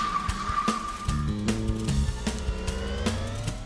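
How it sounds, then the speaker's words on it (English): A didgeridoo drones low and buzzing, set back in the mix of a layered film-score track that plays continuously beneath other instruments. "So the didge is not massively forward, but it's giving that kind of weird sound in the background"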